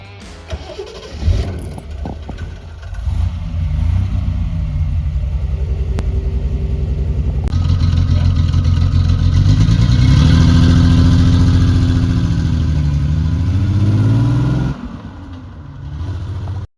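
Triumph TR6 British sports car, front six-cylinder engine with rear-wheel drive, cranks and starts, then idles and revs in a rising and falling growl before cutting off, loud and close with no talking.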